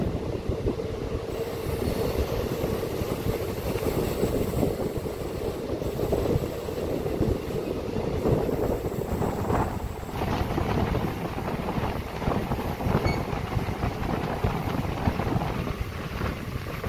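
A DEMU local train pulling away and running from a station, heard from onboard as a loud continuous rumble of wheels on rails with metallic squeals and clatter throughout.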